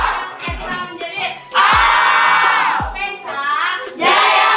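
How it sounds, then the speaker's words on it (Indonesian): Crowd of Spensa school children screaming together on cue, several loud sustained collective shrieks of a few seconds each, separated by brief pauses and low thumps. "Anak Spensa menjerit."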